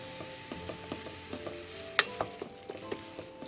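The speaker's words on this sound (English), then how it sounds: "just going to saute that for 5 minutes" Vegetables for pumpkin soup sautéing in a pot, a soft, steady sizzle with light scraping and stirring clicks, the stirring loudest around the middle and repeating in short strokes toward the end.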